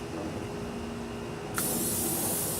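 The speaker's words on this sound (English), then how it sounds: "I'm going to spray up over there a little bit where I'm going to put my meat at." A cooking spray can hisses onto clean grill grates just before the meat goes on, one steady, close spray starting partway through over a low background hum.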